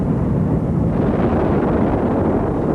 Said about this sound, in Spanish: Las explosiones escupen piedras al rojo vivo que golpean a 10 kilómetros de distancia